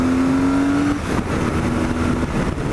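A motorcycle engine revs up in second gear, its pitch climbing steadily, then drops and climbs again as it accelerates, close and loud.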